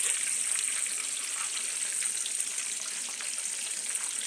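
Chicken drumsticks deep frying in bacon fat, a steady, dense hiss and crackle that holds evenly throughout, close and without any voices.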